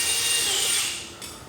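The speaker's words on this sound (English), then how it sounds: "Drilling random holes in places." A power drill whines steadily while boring holes in a race car prep shop, the high-pitched motor loud and close for about a second before winding down and briefly spinning again.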